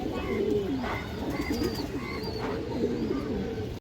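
A pet flying pigeon, a male bird kept at home, coos steadily in low rolling phrases close by, with faint chirps from other birds in the background.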